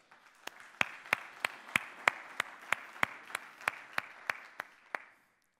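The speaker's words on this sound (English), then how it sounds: "Big round of applause." A single person near the microphone claps slowly and evenly, about fifteen sharp claps, at a conference panel session, fading out at the end.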